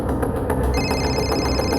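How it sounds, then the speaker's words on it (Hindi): A telephone rings steadily for an incoming call, its repeating electronic bell tone sounding continuously and fairly loud with no talking over it. "सर, नेहा का फोन।"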